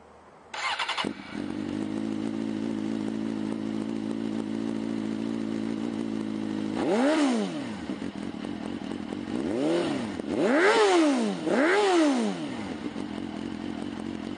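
A 2005 Suzuki GSX-R600 sportbike with a Yoshimura stainless steel RS3 exhaust starts up and settles into a steady idle, then is revved in three sharp, rising and falling blips, loud and close.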